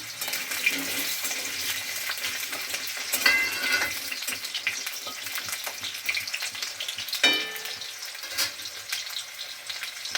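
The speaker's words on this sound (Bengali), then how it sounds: "একটু লাল লাল করে আলুটা ভেজে নিতে হবে প্রথমে।" Potato pieces frying in hot mustard oil in a wok, a steady close crackling sizzle broken by a few louder clattering stirs of a spatula against the metal.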